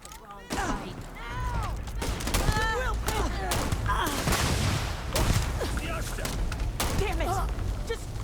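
Starfield combat erupts in loud, close gunshots and bursts of automatic fire amid whizzing effects, with in-game voices shouting over the battle.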